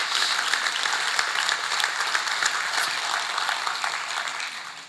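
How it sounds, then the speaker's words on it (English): Audience round of applause fills the room, dense and steady clapping from many hands, loud and sustained throughout before easing slightly at the very end. "So let's give them a round of applause."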